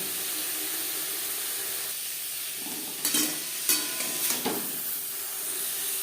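Mixed vegetables for navratan korma sizzle and fry steadily in a pan, and a few short scraping stirs rise above the constant hiss.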